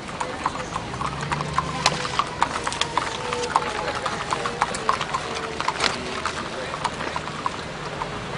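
Horses' hooves clip-clop steadily on pavement as the Wells County Horse and Pony Club color guard passes in a 4-H fair parade, a continuous busy patter of many hooves amid crowd noise and announcer talk.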